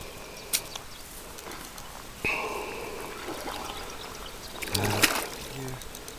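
Water splashes and trickles as mayfly larvae are rinsed at a shore, soft and close with a few brief sloshing bursts over a faint background.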